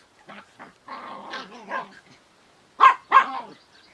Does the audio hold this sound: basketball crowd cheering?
no